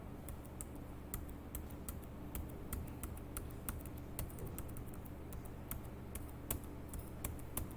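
Steady, fairly quiet typing on a computer keyboard, with irregular crisp key clicks spread evenly throughout and no voices.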